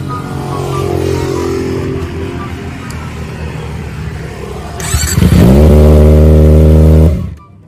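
A modified Kawasaki Ninja ZX25R with an Aero Work titanium exhaust, on an empty road, holds a steady engine note, then revs sharply to a loud, high sustained howl before cutting off abruptly.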